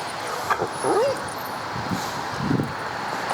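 A reactive dog lets out a short, rising whimpering cry, then gives a few fainter whines against a low outdoor background, with a person talking faintly nearby.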